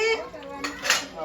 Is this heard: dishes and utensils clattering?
yes